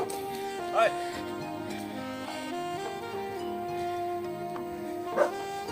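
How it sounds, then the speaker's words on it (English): Dogs bark in the distance along a hillside hiking trail in Penang, a couple of brief yips rising over steady background sound and a low tonal hum. "Those dogs are just doing their job, trying to weed away any intruders."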